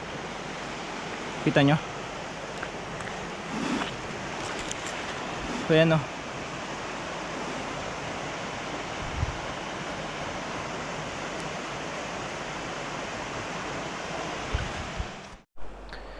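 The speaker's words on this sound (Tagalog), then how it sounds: "Ito yung parte ng ilog na medyo malakas yung agos." A strong current of a river at the Mangatarem Eco-Tourism River Park rushes in a steady, loud broadband roar throughout, with a few brief spoken words over it.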